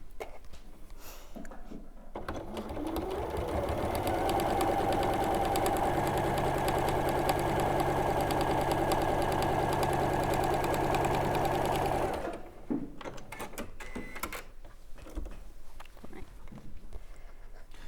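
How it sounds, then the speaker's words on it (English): A sewing machine fitted with an unusual presser foot runs steadily for about ten seconds, stitching a strip of fabric across the top and bottom of a quilt piece, then stops, leaving quiet handling sounds. "You're just sewing a strip across the top and the bottom?"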